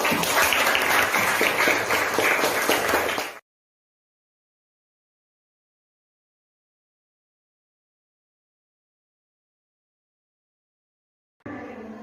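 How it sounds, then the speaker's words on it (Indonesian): Students in a classroom clap together in a brisk burst of roughly three seconds, then everything drops to silence before the clapping briefly returns at the very end. "Beri tepuk tangan untuk."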